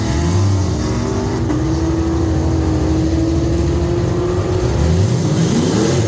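An F-body car accelerates hard down an eighth-mile drag strip at a motorsports park, its engine a loud, sustained roar that climbs steadily in pitch as it pulls away.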